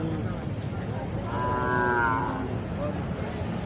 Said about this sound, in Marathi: बैल आहे